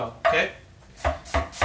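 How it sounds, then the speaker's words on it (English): A knife glides through an onion on a cutting board, giving several close, crisp slicing strokes in a loose rhythm while a voice briefly speaks. "So I'm just gliding the knife,"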